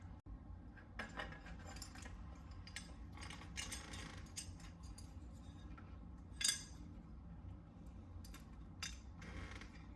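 Screws taken out of a flexi-dip door give faint, scattered metallic clinks and small rattles against a low background hum.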